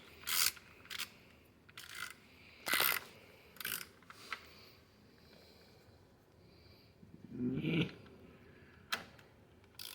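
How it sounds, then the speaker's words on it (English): Torx T20 bolts being backed out of the right-side casing of an Indian Challenger motorcycle, heard as a string of short, sharp ratcheting clicks in separate bursts, close and fairly loud, with quiet pauses between them. "now we're going to remove the two bolts on the outside of the casing on the right side"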